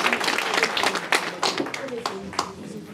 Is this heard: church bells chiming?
no